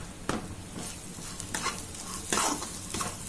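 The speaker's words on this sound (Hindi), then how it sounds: "गैस हमेशा लो फ्लेम पे ही मसाला भूने।" Masala for spicy chole being stirred and fried on a low flame, with a steady soft sizzle broken by a few sharp scraping strokes of a spoon in the pan, close and without talk.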